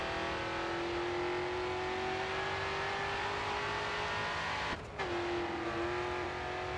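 A race car in the racing game Grid 2 roars under full throttle, a continuous close engine drone rising steadily in pitch, briefly cutting out for a gear change before climbing again.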